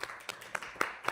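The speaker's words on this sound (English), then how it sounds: "We'll give these guys a round of applause" A small audience claps in a brief, sparse round of applause for a church youth team, scattered, fairly faint handclaps at an indoor gathering.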